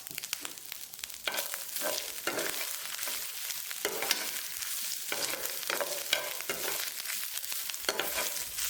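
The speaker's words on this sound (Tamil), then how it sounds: "இப்போ அதே பேனில் தேங்காய் துருவல் சேர்த்துக்கிறேன்." Grated coconut roasts in a pan with a soft, continuous sizzle while a spoon stirs and scrapes it in repeated strokes, close and fairly loud, with no talking.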